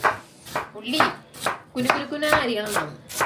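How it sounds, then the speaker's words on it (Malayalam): Onions being chopped with a knife on a board while preparing biryani, with a quick run of close, sharp knife strikes and people talking over them. "ഉള്ളി അരിയാൻ തുടങ്ങിയിട്ടുണ്ട്"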